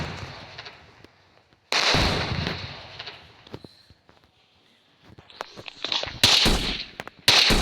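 Sniper rifle gunshots in a dinosaur video game: several sharp, loud cracking shots separated by quiet gaps, each with a short burst of rumbling echo, and a rising whine between them.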